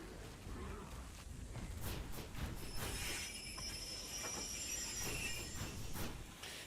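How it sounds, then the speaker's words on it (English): A train rolls along in the video game ARK Survival Ascended, a steady rumble of wheels on rails with high metallic squeals running through it, close and continuous. "You're hitting the train."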